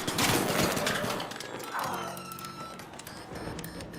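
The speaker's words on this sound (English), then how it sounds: "It's the sound of shields powering down when you've broken one." A broken shield powering down in the Arc Raiders video game: a dense electronic burst that drops away, followed by lower humming tones and steady in-game background noise, with no speech.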